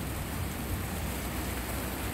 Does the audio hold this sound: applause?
no